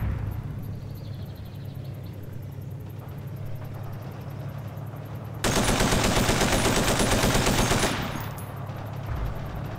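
Loud, close machine gun burst in Forgotten Hope 2, a World War II shooter set during the invasion of Crete, roaring for about two and a half seconds over a steady low battlefield rumble with scattered distant shots.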